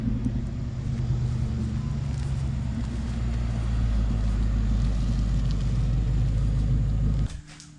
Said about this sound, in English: Do a burnout.